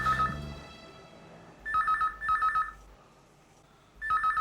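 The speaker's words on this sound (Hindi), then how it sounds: "ये किडनैपर का ही फोन होगा" A telephone rings in repeated double bursts, fairly close, with quiet pauses between rings and no talking.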